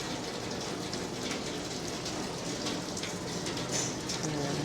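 Steady rain falls at home on a rainy day in the Philippines, a dense continuous patter with splashy drops, close and even throughout.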